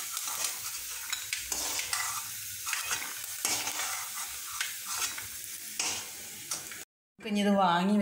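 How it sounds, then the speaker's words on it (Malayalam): Coconut pieces frying in oil in a pan crackle and sizzle steadily while a spatula scrapes and stirs in repeated strokes, close up; a brief silence follows, then a voice speaks. "നമ്മുടെ സ്റ്റൗ കത്തിച്ച് നമുക്ക് ആ തേങ്ങാക്കൊത്തിലൊന്ന് വറുത്തെടുക്കണം"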